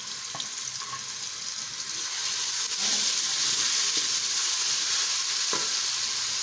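Chopped onion, garlic and ginger fry in a pan for an aloo baingan dish, a steady close sizzle that grows slightly louder partway through, with a few faint clinks.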